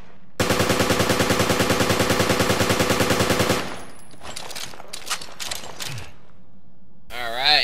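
The High Roller machine gun in Resident Evil: Revelations raid mode fires one loud, rapid burst of about three seconds, followed by quieter game effects and a rising electronic tone.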